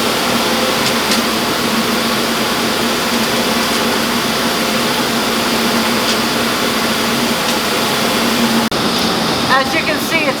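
A commercial kitchen dishwasher that sanitizes with hot water, running with a loud, steady rushing hum and whoosh throughout, a brief click near the end, while a voice talks over it.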